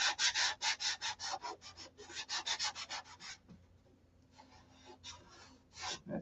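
Hand sanding with sandpaper, a fast run of loud rhythmic rasping strokes, a quieter pause with light scratching, then a few more strokes, close up.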